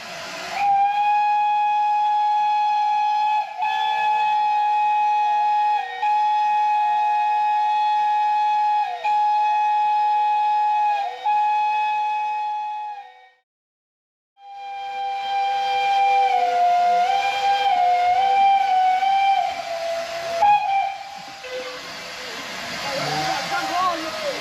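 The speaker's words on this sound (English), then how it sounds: "it was time for the whistle up itself, which, since it lasted more than 3 minutes, we've edited a little bit" Steam locomotives sound their whistles together at the Avon Valley Railway New Year whistle up, making loud sustained chords with a brief pause near the middle, then resuming under crowd noise.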